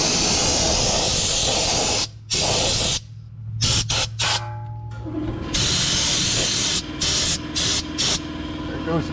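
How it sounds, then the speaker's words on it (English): Spray gun hisses in repeated bursts while applying Fluid Film undercoating to a Jeep underside, an air compressor humming and kicking on in the background between the loud close sprays. "There goes the compressor."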